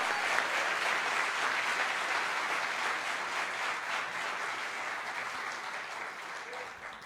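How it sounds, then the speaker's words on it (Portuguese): Applause at a church gathering in Aquidauana: a broad, even wash of many hands clapping, fairly distant and sustained, slowly fading toward the end. "Aplauda o Rei Jesus."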